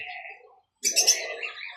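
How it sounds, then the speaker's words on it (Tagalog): A pet parrot gives a short, loud burst of harsh, chirpy calling close by, following a quieter stretch of thinner tones and a brief pause. "Bye-bye na ang magandang ibon."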